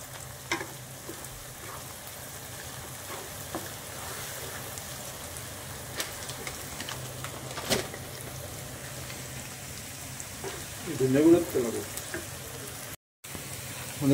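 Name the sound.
onions frying and being stirred in a pan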